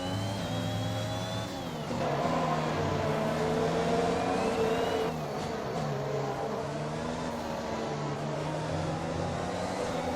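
F1 car engines in the F1 2021 game race wheel to wheel at the Spanish round, their high whining tones rising and falling through gear changes as two cars run close together, loud and continuous.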